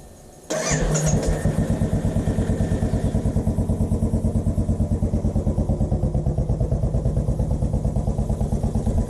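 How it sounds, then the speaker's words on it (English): A 2017 Royal Enfield motorcycle engine cranks and fires after a short pause, then settles into a loud, steady, thumping idle as it warms up, running alone and close by. "So I'll just start by warming up the bike."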